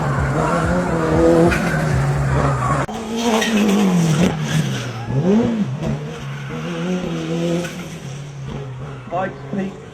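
A time attack race car, a former Pikes Peak record holder, blasts past at speed with a roaring engine whose pitch climbs and dips through gear changes, and a tire squeal, while an announcer talks over it.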